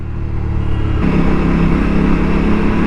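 An Aprilia RS457 motorcycle fitted with a Sprint air filter revs up, its engine note stepping up to a higher, steady loud drone after about a second, close and continuous.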